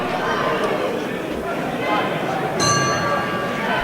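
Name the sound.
boxing round gong bell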